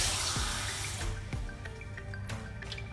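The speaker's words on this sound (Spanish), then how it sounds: "Añado un poquito de agua." Water from a tap pours into a cooking pan while preparing sole meunière with carrots and butter, a loud steady splash that stops after a second, followed by scattered drips and light clinks.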